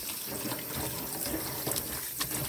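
Cold water runs steadily from a kitchen tap over spinach, a close, continuous splashing rush with no talking.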